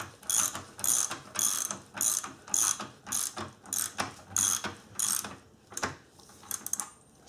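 Close ratchet clicking as a part on a floor jack is tightened down, about a dozen quick bursts of rattling clicks in a steady back-and-forth rhythm, clear and alone.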